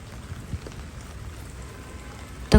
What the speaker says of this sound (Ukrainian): Просто подивись, у нас який дощ іде.